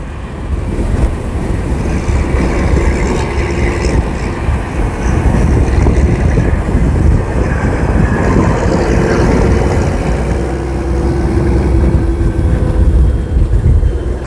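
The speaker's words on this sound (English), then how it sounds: "I'm sorry for the wind noise." Heavy wind buffets the microphone in a continuous loud roar and rumble, steady for the whole stretch with no voices.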